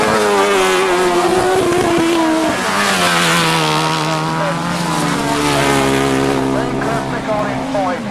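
At a grass track meeting, 1000cc racing sidecars roar past in a loud, close pack with revving engines rising and falling in pitch, while a commentator talks over the noise.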